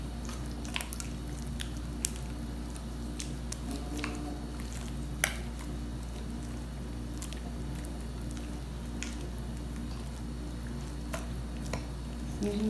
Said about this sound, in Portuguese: Vamos mexer aqui o nosso creme.